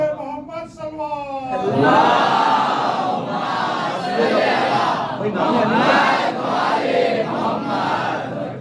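A crowd at a Shia majlis gathering bursts into a loud, massed religious slogan chant, with a few voices leading before many join in rhythmic, repeated shouts.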